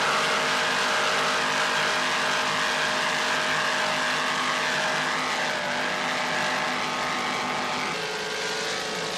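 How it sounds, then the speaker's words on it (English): An offshore racing powerboat, a 32-foot Mirage with twin 650 hp inboards and Mercury drives, produces a loud, sustained engine drone with steady pitch and a slight drop near the end, no voices. "a 32-foot Mirage powered by two 650 horsepower dual inboards with Mercury drives"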